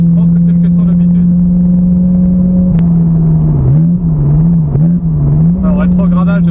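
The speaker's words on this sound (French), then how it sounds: "Alors rétrogradage, les petits coups de gaz" A Ferrari 348 engine in a video game holds a steady, loud drone, then wavers through a quick series of downshifts with short throttle blips before settling back to a constant tone.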